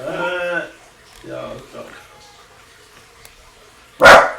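A dog barks in a short burst near the start, a few quick loud barks, then a sharp loud yelp or bark near the end, with quiet room sound between and a little murmured talk.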